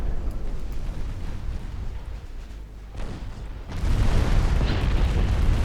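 A torpedo strikes a warship in the naval game Ultimate Admiral: Dreadnoughts, bursting into a deep, loud rumbling boom that swells partway through and keeps roaring with no voices.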